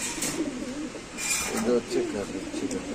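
Racer and giribaj pigeons coo repeatedly at a busy pigeon market, their soft throaty calls close by while people talk over them.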